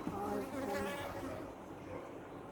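Scottish native black honeybees buzzing steadily at close range in Kincardine, a dense continuous drone with no voices over it.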